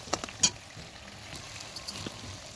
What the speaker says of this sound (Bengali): আর এখানে সামান্য একটু হলুদ দিয়ে দিচ্ছি। মশলাটা সুন্দর করে কষিয়ে নেব এখন।